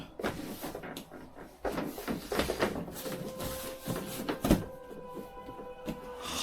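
A solid wood bunk bed creaks and groans as it is moved, wood rubbing against the bed frame in uneven drawn-out squeaks and knocks, close and fairly quiet.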